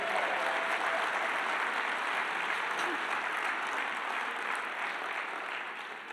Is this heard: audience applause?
yes